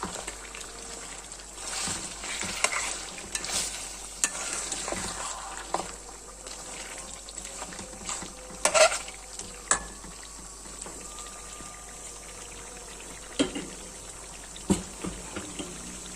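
Mutton pieces fry in ghee in a restaurant-style karahi, a faint, steady bubbling sizzle with a few sharp clinks scattered throughout.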